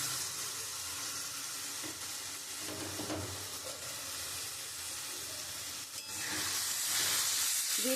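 Minced mutton (goat) meat dropped into spices already fried in oil, giving a steady broadband sizzle with a louder burst of frying near the end, close and continuous with no talk.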